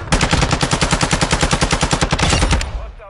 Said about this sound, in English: How are you still shooting me between all this shit going on?